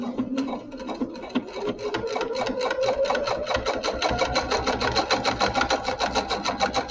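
A sewing machine stitching a placemat made from a dish mat and jelly roll fabric strips, starting slowly and then running in a fast, even, rapid chatter, close and clear.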